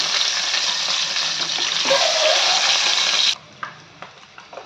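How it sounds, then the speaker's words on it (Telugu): Eggs frying in hot oil in a pan for a curry: a loud, dense sizzle and hiss close by that runs steadily, then cuts away abruptly to a quieter, softer crackle with a few scattered pops. "ఆయిల్ వేడెక్కింది ఎగ్స్ వేసుకుందాం ఇవి నూనెలో కొంచెం ఫ్రై అయితే బాగుంటుంది"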